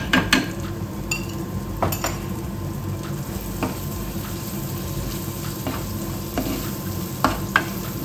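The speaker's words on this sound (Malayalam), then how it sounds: "അത് എല്ലാം ഒന്ന് വഴറ്റിയെടുക്കാം" Ground spice powders, including fenugreek and black pepper, sauté in a pan with a continuous close sizzle while a spoon scrapes and clinks against the metal in repeated sharp strokes, with no talking.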